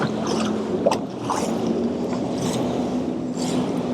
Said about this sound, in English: We're gonna get some wake from this guy.